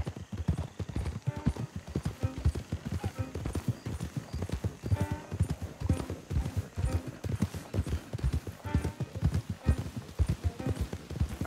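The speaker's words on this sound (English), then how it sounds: "Don't want the horses clopping around outside the window." Horses' hooves clop in steady, overlapping rhythm in Red Dead Redemption 2, close and continuous, like several horses walking together, with no voices over them.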